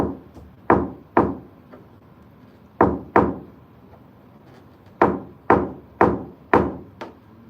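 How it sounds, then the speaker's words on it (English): Paintless dent repair on a hail-damaged car panel, tapped out from behind: sharp knocks in uneven clusters of two or three, close and fairly loud, each with a short ringing decay and no voices. "Backwards knocking from behind like this."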